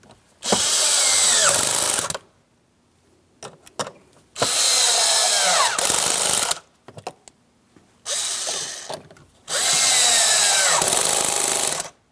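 A power drill drives the three upper mounting screws on a 2015-2025 Ford Transit 250 front strut and spring assembly: four long, close whirring bursts split by short pauses with faint clicks, no talking.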